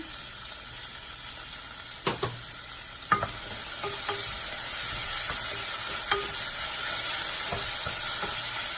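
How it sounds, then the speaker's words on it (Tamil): Onions fry with salt in a pan while being stirred for cabbage pulao, giving a steady, bright sizzle with a few soft scrapes and taps from the spatula. "உப்பு சேர்த்துட்டு நல்லா வந்து பொன்னிறமாக வறுத்தெடுத்துக்கலாம்."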